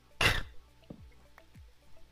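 A single sharp throat-clearing cough from a gamer who is still getting over a cough, brief and close, followed by a few faint clicks and soft noises in a quiet room.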